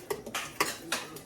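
A spoon scrapes and clinks against a cooking pot as onions are stirred in oil, three or four distinct metallic knocks spaced about a third of a second apart over a soft background.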